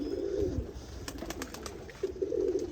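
Pigeons at a pigeon fanciers' club in Tarn Taran give low, throaty coos in two warbling bursts, near and clear, with a brief soft clatter of wing or perch noise between them and no talk.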